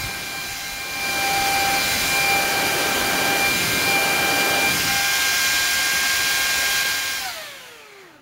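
A 120 mm DC computer server fan moving about 250 cubic feet of air a minute spins up into a loud, steady whooshing whine with tonal hum, holds for several seconds, then winds down quickly as it brakes.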